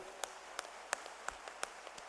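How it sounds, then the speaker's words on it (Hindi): Sparse, scattered hand claps from an audience in Gwalior at a public event for road projects, about half a dozen quiet separate claps spread over two seconds against a faint, steady room hiss. "ग्वालियर की ताली सुननी चाहिए।"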